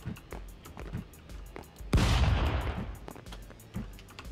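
Gunfire in the video game Stick Fight: a string of short sharp shots, then one heavy, loud blast with a decaying rumble, followed by more scattered shots.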